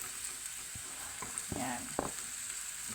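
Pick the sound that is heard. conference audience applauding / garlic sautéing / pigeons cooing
garlic sautéing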